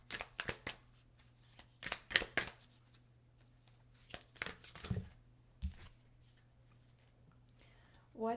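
Moonology oracle cards being shuffled in a few quick riffling bursts with soft taps and slides between them, close and fairly quiet, with a faint steady hum underneath.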